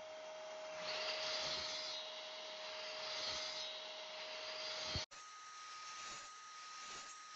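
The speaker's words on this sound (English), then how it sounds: "I make a series of cuts to remove most of the material" Saw cutting a series of depth-limited cuts into wood while building a ladder, a steady loud whining buzz that runs continuously, stops abruptly for an instant, then resumes slightly quieter; no talking.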